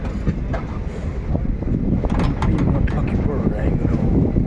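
A passenger train runs on its rails with a continuous rumble and a rapid, irregular clatter of wheels over track joints, heard up close for a few seconds.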